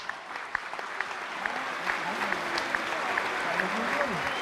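A TV studio audience at a Popstar singing show applauds in a steady crowd wash, with a voice speaking or calling out over the clapping and a few sharp accents.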